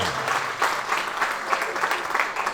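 A crowd at a café celebration in Veles claps in sustained applause, a dense, fairly close patter of many hands with rhythmic swells.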